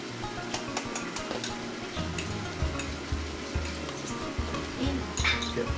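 Rad nah, a Thai pork noodle dish in gravy, being stirred and mixed together on a plate, giving close, continuous wet scraping and sizzling-like sounds with soft utensil clinks throughout.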